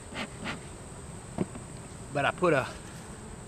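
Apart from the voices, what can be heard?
honey bees buzzing around an opened hive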